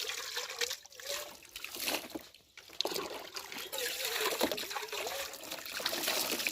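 Water trickles and splashes over a cooking pot as the sand used to scour it is rinsed away outdoors in a village, a close and continuous pouring with small splatters.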